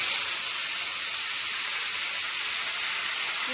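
Ginger and cumin paste fries in hot oil with bay leaves, a loud, steady, broadband sizzle and hiss that holds evenly throughout without pauses.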